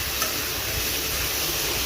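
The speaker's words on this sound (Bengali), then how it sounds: "আলুগুলো লাল করে ভেজে নিচ্ছি" Potatoes sizzle in oil in a wok, a dense, continuous frying hiss close by, heard alone with no talking.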